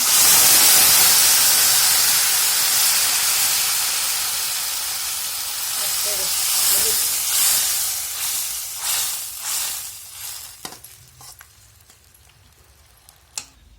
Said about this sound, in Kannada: ಈಗ ನೋಡಿ ಸಾರು ಹಾಕ್ತಿದ್ದೀನಿ